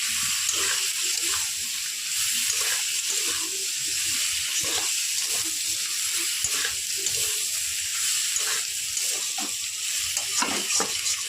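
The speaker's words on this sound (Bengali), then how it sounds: "হলুদ গুঁড়ো দিয়ে এবার ভালো করে আমি এটাকে মিক্স করব" Shrimp seasoned with chili powder, turmeric powder and salt sizzle steadily in a frying pan while being stirred, with soft scraping and clinking under the constant hiss.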